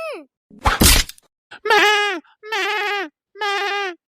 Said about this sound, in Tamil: ஏ ஆடு ஏன் ரோஸ் பூ செடிய திங்க ஒண்ணு